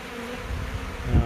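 Honeybees buzz continuously around a box during a wall cut-out, a close, dense droning hum that holds steady and swells briefly near the end.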